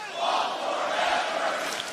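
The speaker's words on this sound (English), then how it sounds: "The crowd chants "Ball forever."" A wrestling crowd at AEW Dynamite in Chicago chants in unison, a loud sustained roar of many voices carrying through the arena for a couple of seconds.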